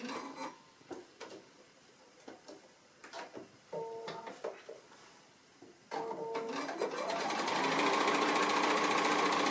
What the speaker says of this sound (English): So I'm just doing that second round of top stitching.